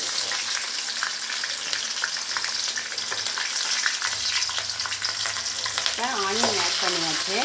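Chopped onions sizzle and fry steadily in hot oil in a kadai for wheat upma, a close, continuous crackle with stirring toward the end, no voices.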